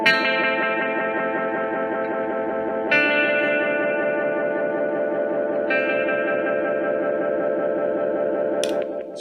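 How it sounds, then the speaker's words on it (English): Guitar run through a Toronto City Transit Delay Deluxe pedal, swelling into dense, sustained echo feedback and droning layers of repeats that build and shift, loud and continuous, with no talking. "you can get instant feedback, or you can just do like droning noise, or you can do like layers of sound"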